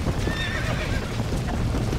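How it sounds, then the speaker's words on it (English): Horse hooves clip-clop in a fast gallop while a horse whinnies loudly over the pounding rhythm, with a noisy, busy background, in the video game Red Dead Redemption. "Ride the last horse out of the burning barn."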